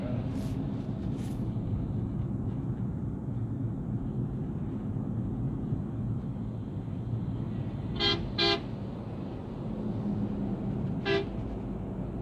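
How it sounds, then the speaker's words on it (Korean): Car horns honk on a street near a dump truck, a couple of short toots early, then two close beeps and a final blast later over a steady low traffic rumble. "지금 빵빵 차가 울리잖아요"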